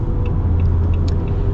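A deep, steady V8 Hemi engine rumble from a 2026 Ram 1500 Big Horn pickup truck, loud and close, with a constant low drone and faint higher squeaks riding on top.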